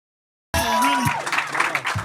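Silence, then a live comedy audience abruptly bursts into applause and cheering for comedian Joe DeRosa, a full, close crowd roar with clapping and whoops.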